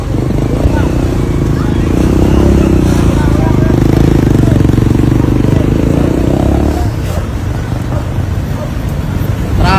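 Busy street traffic with motorcycles and cars streaming past, a steady loud roadway rumble with engine drone throughout and voices murmuring underneath.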